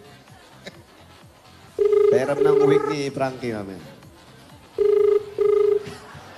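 Telephone ringing in two double-burst patterns of a steady electronic tone, loud and close, with people talking over the first ring.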